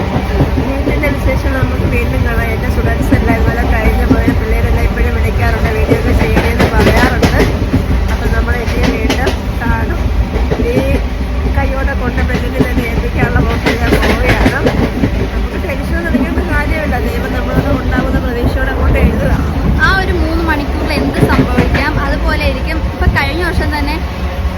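A train rumbles loudly and continuously with rhythmic rattling of the carriages, while people talk and murmur over the noise throughout.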